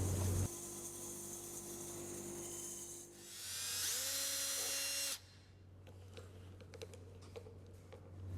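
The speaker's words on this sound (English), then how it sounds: "Now I'm using my bandsaw, but you could do it just as easily with a handsaw" A bandsaw cuts a notch in a solid wooden block: a steady motor hum rises into about two seconds of loud, whining cutting, then drops back to a lower run-down hum with small knocks, close by.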